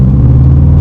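A car engine revs in one short, loud throttle blip up about 1,000 rpm, a deep steady rumble close by with no voices over it.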